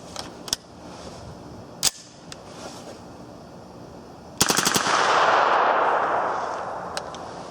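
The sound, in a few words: 9mm AR-15 rifle firing with a metal 20-round magazine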